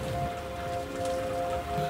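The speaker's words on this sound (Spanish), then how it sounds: "esta lluvia no me deja avanzar" Steady rain falls on a street on the way to a dock, a dense even hiss of drops with a faint tonal hum underneath, continuous and fairly quiet.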